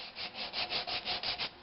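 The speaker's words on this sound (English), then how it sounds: "I'm going 60 grit first, making sure I'm sanding with the grain." Sixty-grit sandpaper rubs along the grain of a natural-edged oak bowl in steady rhythmic strokes, about eight quick back-and-forth passes, close and fairly quiet with no talk.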